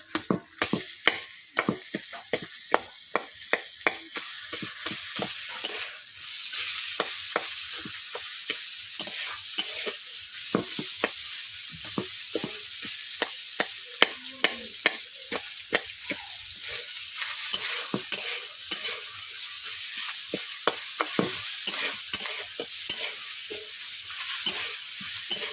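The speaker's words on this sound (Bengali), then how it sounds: "এরপর দিয়ে দিচ্ছি মাছের মাথা, রুই মাছের মাথা বাজার থেকে কিনে আনা" Rohu fish heads, bought at market and pre-fried, sizzle steadily in a pan while being stirred, with frequent sharp scraping clicks of the spatula over a constant hiss for the whole stretch, no voices.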